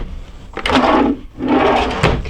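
A solid hardwood drawer in a 1999 Newmar London Aire 4082 motorhome slides open and then shut, two close, loud wooden rumbling strokes with a short pause between them.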